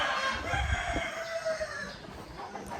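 A Rhode Island chicken crows and clucks nearby, a single rooster-style crow trailing into softer clucking, with no talking.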